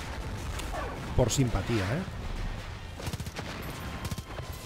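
Bursts of gunfire crackle and pop through a chaotic Far Cry 5 game scene, with a helicopter and enemies in vehicles, while a person talks over the shooting.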